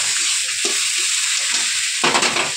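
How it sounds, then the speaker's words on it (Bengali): A potato mixture sizzles and fries in a pan while being stirred, a steady hiss with soft scraping and clinking strokes, louder stirring near the end, and no talking. "এবার বন্ধু এটা খুব ভালো করে নাড়তে হবে।"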